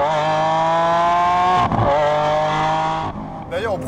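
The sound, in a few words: Lamborghini Aventador S accelerating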